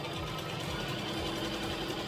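A sewing machine runs steadily while stitching a tutu skirt, a quiet, fast, even mechanical whir-and-tap with a regular rhythm and no talking.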